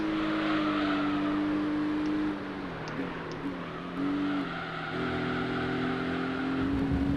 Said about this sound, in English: I can hear the Clio behind me now